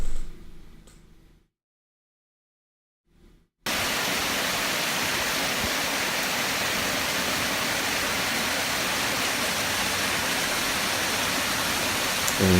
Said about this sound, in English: that's a different waterfall, by the way, not the one that I showed you before